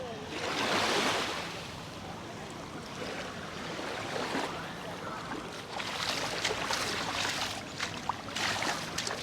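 Sea waves wash onto a stony beach at Port de Soller, a steady rushing surge with a louder swell early on and rattling pebble wash later, heard nearby under light wind, with a voice speaking faintly at times.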